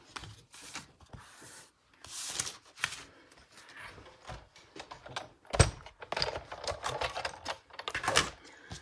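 A Big Shot die-cutting machine cranks paper through in a series of uneven mechanical clicks and rattling bursts, close and moderately loud, with a sharp thump midway and no talking.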